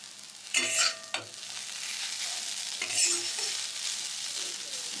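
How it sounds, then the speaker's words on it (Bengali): Vegetables fry lightly in a little oil or butter, a soft steady sizzle in a pan broken by a few clattering stirs of a utensil, close and without speech. "সবজিগুলোকে হালকা ফ্রাই করে নিয়ে, মানে অল্প খুব সামান্য তেলের বা বাটারের মধ্যে দিয়ে ব্যাস।"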